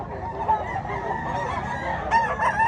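A gamecock crows at a cockfighting-rooster auction in Mantalungon, Barili, Cebu, in a long drawn call amid a busy background din, followed by a louder, nearer crow near the end.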